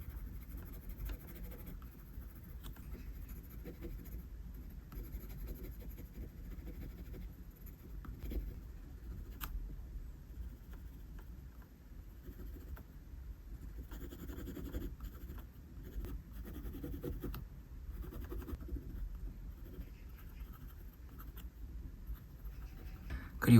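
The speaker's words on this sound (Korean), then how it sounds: "눈동자는 어둡게 색을 칠해줍니다" A pencil colors in the pupils of a drawn eye with soft, continuous scratchy strokes, close but faint, over quiet room hiss with no talking.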